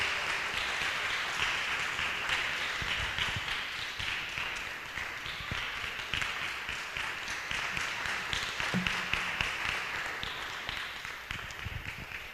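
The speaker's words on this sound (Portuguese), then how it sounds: "Você pode aplaudir ao Senhor pela vida do apóstolo." A church congregation applauds the apostle, steady dense clapping from many hands sustained for several seconds, close and loud, filling the space without a break.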